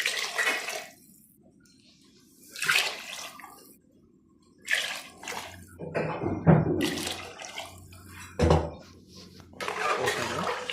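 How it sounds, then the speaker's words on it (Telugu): Water poured onto rice in a pot for vegetable biryani, coming in several separate splashing bursts with quiet gaps between them and no voices. "గ్లాస్కి వచ్చేసి బియ్యం ఒక గ్లాస్ పోస్తే 1 గ్లాస్ నీళ్ళు పోసి వేసాను"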